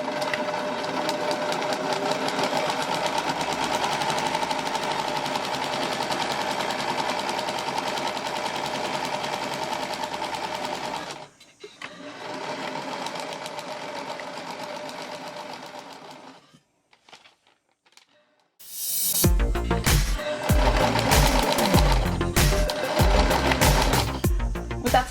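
A sewing machine runs steadily taking stitches, stops briefly, runs again, then after a short pause switches into louder, rougher reverse stitching to lock the seam; close and continuous with no voices.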